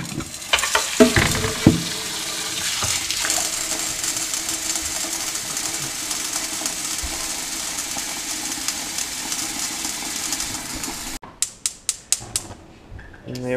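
Water heating to a boil for cleaning fish tank gear, a steady, fairly loud rushing hiss that runs unbroken for most of the stretch before giving way to a few sharp clicks and knocks near the end.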